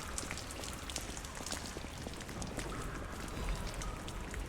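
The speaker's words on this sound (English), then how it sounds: "Like, where is the rain coming from?" Rain falls indoors in the video game Lies of P, a steady, soft patter of drops on surfaces with no voices, fairly quiet and continuous.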